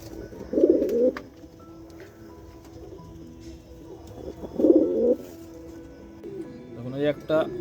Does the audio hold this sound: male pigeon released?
yes